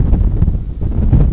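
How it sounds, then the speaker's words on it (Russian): Strong, gusty wind buffets the microphone during a rainy spell of bad weather at the waterside while fishing for pike and zander, producing a loud, low, rumbling roar that swells and dips. "самое главное, это очень сильный шквалистый ветер."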